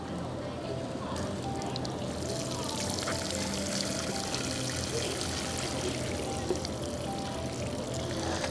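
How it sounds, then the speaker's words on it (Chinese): Medicine solution pours into a potted peony in a steady, unbroken liquid stream for several seconds, close and moderately loud, with faint voice activity in the background. "把它这个药液再倒进去"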